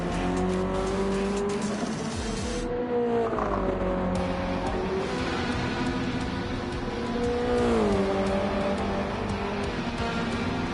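A Ferrari race car in Gran Turismo 7 is pushed hard, its engine howling at high revs and rising and falling through gear changes, with tyre squeal and other cars close by, loud and continuous throughout.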